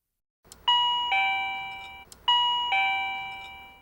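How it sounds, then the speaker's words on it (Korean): A neighbor's electronic doorbell chimes a two-tone ding-dong twice in a row, clear and ringing with decaying tails, heard alone in a quiet room. "옆집의 초인종 소리 등 외부 소음이 들리면"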